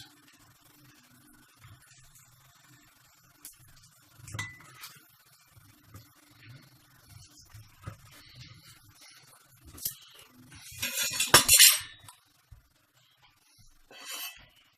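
A utensil stirs a chicken stir fry with tomatoes in a pan, making faint scraping and light metallic clinks that build to a louder clatter near the end.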